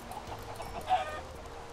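Chicken clucking from the Minecraft-style game Blockville, a brief squawk standing out over a steady low game background.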